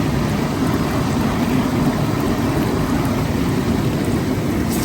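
Hot tub jets run with a steady, dense churning hiss of rushing, bubbling water, loud and unbroken throughout, with no voices.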